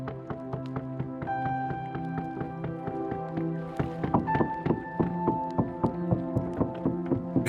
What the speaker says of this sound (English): Banging on their fishing boats as they approach the observation boats anchored in the shallow water